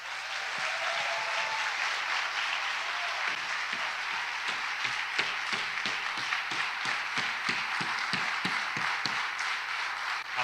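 A church congregation at Mass applauds, a steady, full wash of many hands clapping across the room, with some sharper individual claps standing out near the front, continuing throughout without talk.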